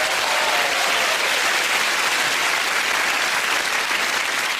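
A studio audience at a TV quiz show applauds steadily throughout, a loud continuous wash of clapping with no talk over it.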